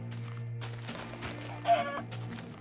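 Chickens clucking in the Minecraft video game: a few short clucks over a steady background tone, with one louder squawk near the end.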